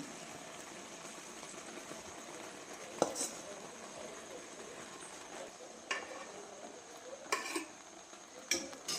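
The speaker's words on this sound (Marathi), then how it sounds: "हा भात टाकून घेऊया आपण जो हाफ फ्राय केलेला आहे सगळीकडे एकसारखा" Half-fried rice for an egg biryani is spread evenly across a pot, heard as faint, sparse scrapes and metallic clinks of a spoon against the pot over a quiet background.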